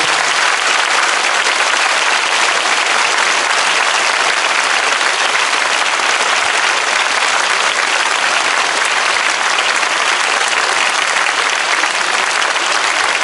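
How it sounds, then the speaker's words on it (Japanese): Sustained, dense applause from a concert audience at a town arts concert fills the whole stretch, steady and loud, with no voices standing out. "応援していただいた皆さんに盛大な拍手をお願いします"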